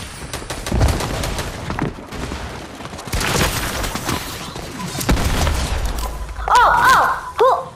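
Gunfire from the video game Fortnite cracks in repeated bursts of loud shots and booms, with a sharper electronic chirp near the end, and a player talks briefly between them.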